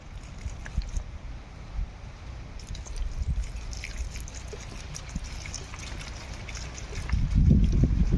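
Water poured onto a ginger root rot treatment on a farm, giving a steady low trickle and splash with faint dripping, swelling louder near the end.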